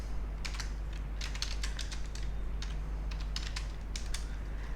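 Quick bursts of keystrokes clatter on a computer keyboard as Java code is typed, irregular close clicks over a low steady electrical hum, with no talking.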